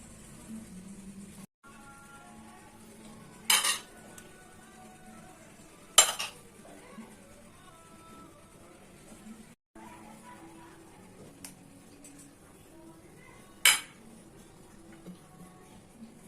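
A metal spoon pushing rice, with liver and gizzards, into the cavity of a whole country chicken: soft, quiet scraping punctuated by three sharp clinks of the spoon against the dish.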